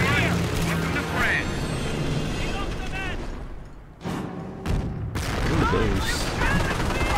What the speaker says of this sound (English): this is getting bombarded pretty hard